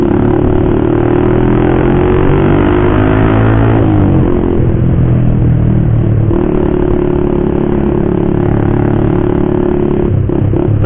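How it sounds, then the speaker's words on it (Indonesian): A motorcycle fitted with a loud aftermarket racing exhaust revs hard and steadily up close, its low throaty roar rising and falling over about eleven seconds with no talking. "Pakai knalpot racing itu kayak lagi maki orang gitu ya."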